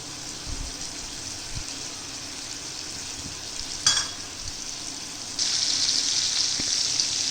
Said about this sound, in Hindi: तो आपने इसको 2 से 3 मिनट के लिए फ्राई करना है।